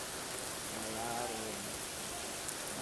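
Heavy rain pours down in a dense, steady hiss that fills the whole moment, with a faint voice briefly audible beneath the downpour.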